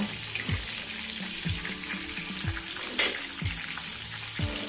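Bitter gourd pieces frying in a pan make a steady, close sizzle, broken by regular low knocks roughly every second, like stirring against the pan.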